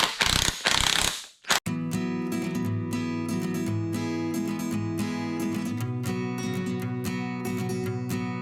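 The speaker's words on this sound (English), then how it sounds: "just gonna loosen the rockers so I can spin them to get to all the head bolts" A ratchet loosens rocker arms on a shop truck's engine cylinder head, clicking in quick steady runs close to the mic, after a brief clatter of handling at the start.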